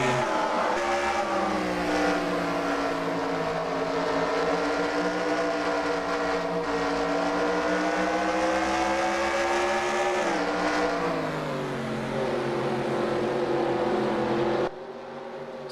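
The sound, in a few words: race cars starting the race at North Wilkesboro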